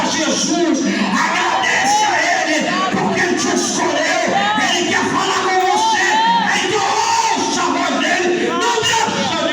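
A church congregation at an Assembleia de Deus service shouts and cries out together in a dense, continuous roar of overlapping voices and yells, loud and sustained throughout.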